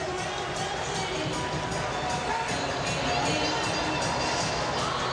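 Crowd noise fills a basketball arena at a 1999-2000 college game between Arkansas and Tennessee, a dense, steady roar of many voices with a slight swell toward the end.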